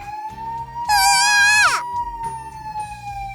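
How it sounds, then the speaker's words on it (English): Emergency sirens approach on a city street in an animated scene, a loud wavering wail that swells for about a second and then slides down in pitch over a steady background tone. "I heard sirens approaching."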